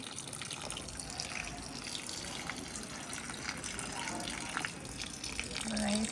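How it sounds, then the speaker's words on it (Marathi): Water runs steadily from a tap in a balcony garden in a continuous splashing gush, fairly close, with a muffled voice faintly in the background. "सोड पाणी चालूच राहू दे."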